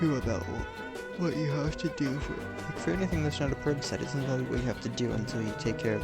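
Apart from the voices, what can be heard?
No distinct noise like a dog, phone or traffic.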